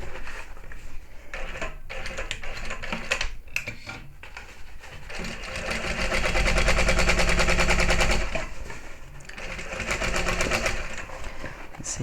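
A sewing machine stitches a handbag seam at three-eighths of an inch seam allowance, its needle hammering in rapid runs with short pauses and a louder sustained burst midway, close and steady with no talk.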